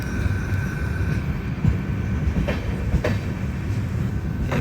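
A train sits near Kazipet Junction, heard from aboard the Godavari Express as a steady rolling rumble with faint clickety-clack and occasional squeals, no voices.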